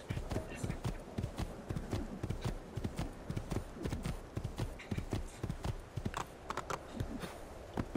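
Hooves clip-clop steadily from a horse ridden in Assassin's Creed II, a quick repeated rhythm over game ambience, with someone talking over it.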